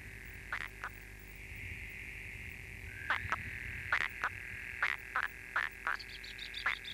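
Frogs croak in a lagoon of an Argentine urban nature reserve, a series of short, evenly spaced calls, mostly in pairs, over a steady insect-like hiss and low ambient rumble.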